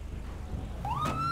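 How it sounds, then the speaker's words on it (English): A police car siren in a video game, a short rising wail that kicks in near the end of the moment over low engine rumble. "I didn't know you guys had sirens on these."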